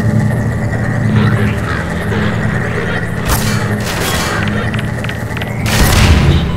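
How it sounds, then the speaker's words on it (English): A grenade explodes amid Half-Life 2 Episode One combat: loud, dense rumbling noise throughout with a couple of sharp bursts and a swelling blast near the end, no voices. "And he threw a grenade and I died"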